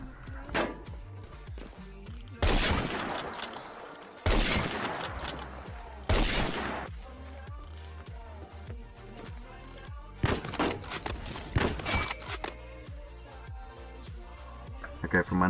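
Remington 700 bolt-action rifle fire in the Phantom Forces video game, with several loud, separated shots spaced a few seconds apart over a background of game noise and other gunfire.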